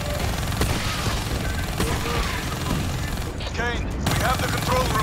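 Rapid gunfire in Call of Duty: Black Ops 3 campaign combat, loud dense bursts and scattered shots over a constant battle din, with game voices talking in the mix.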